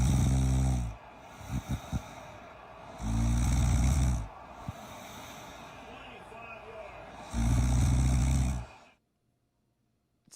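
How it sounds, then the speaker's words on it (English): A sleeping, overweight man snores deeply, three long, loud rumbling inhalations spaced a few seconds apart, with quieter breathing and snorts in between, ending in silence. "That's an incredible deep snore from an obviously overweight man"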